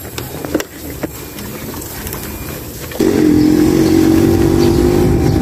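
An electric bicycle running on a lead-acid battery sets off after a few faint knocks, its motor jumping to a steady, loud, close whine with road noise as it accelerates and holds speed.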